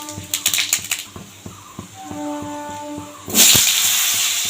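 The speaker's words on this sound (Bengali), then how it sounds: "এই তেলে ফোড়ন দিলাম 5 ফোড়ন।" Five-spice seeds (panch phoron) dropped into hot oil in a wok after frying bori give sharp popping and crackling, followed by a rising steady sizzle, alongside a few utensil knocks near the start.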